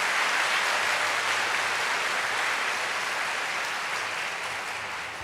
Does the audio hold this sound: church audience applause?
yes